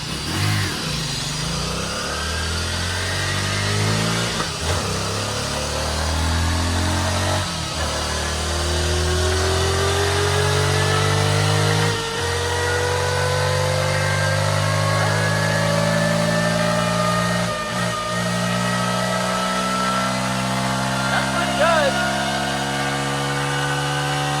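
A Honda XR150 motorcycle engine on a dyno is run through the gears, loud and close, with rising revs and brief drops at each shift across a long sustained pull.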